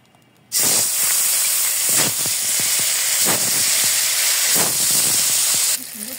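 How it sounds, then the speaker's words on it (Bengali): Onions dropped into hot oil in a pan, with a sudden loud hissing burst that settles into an intense, steady frying roar punctuated by occasional stirring knocks before easing off. "তেল দিয়ে দিয়েছি, তার মধ্যে পেঁয়াজ ছেড়ে দিলাম, পেঁয়াজ বেরেস্তা করে নিব"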